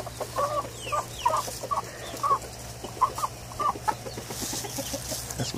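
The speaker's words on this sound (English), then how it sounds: "That's my chicken right there." Chickens cluck in short, separate bursts over a steady low hum, close by, with insect buzz and cicadas and outdoor noise in the background.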